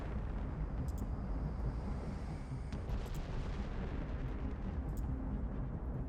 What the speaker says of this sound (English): we're opening up with all of our guns